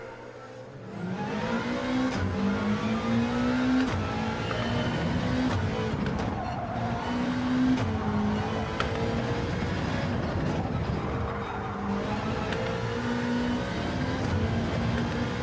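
Race car engine in Gran Turismo 7 at the Red Bull Ring, a steady loud drone whose pitch climbs and drops through repeated upshifts and braking, continuous throughout with no talking.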